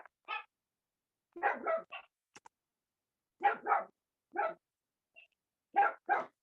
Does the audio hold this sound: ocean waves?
no